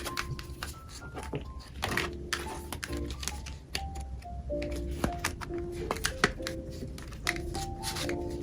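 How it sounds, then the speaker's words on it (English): Tarot cards being mixed and shuffled by hand, a near, continuous patter of soft slaps, flicks and rustles with irregular clicks, fairly quiet throughout. "I just mixed the cards up front and back"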